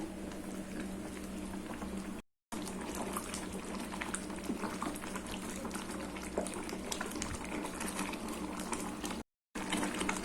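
Water boiling for wheat rava biryani bubbles in an open pot at a steady rolling boil, a dense continuous seething with small pops and crackles, close up and fairly loud, with two brief dropouts.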